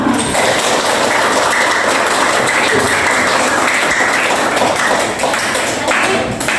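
Children in an Indonesian primary school classroom clap together during a lesson, a dense, steady burst of hand claps filling the room for the whole stretch.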